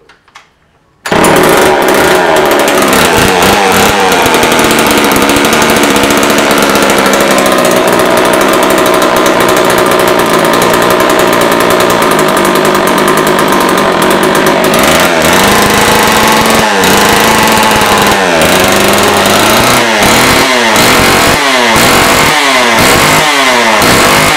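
A Homelite chainsaw starts and runs on half choke, its two-stroke engine roaring loud and close for the whole stretch, with the revs surging and dipping toward the end.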